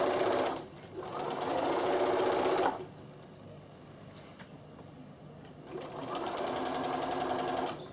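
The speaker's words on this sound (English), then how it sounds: "making my stitch perfectly even from my folded edge into my needle" Bernina L460 overlocker stitching along a folded towel edge, two loud close bursts of fast even machine hum with a quieter pause between them and no talk.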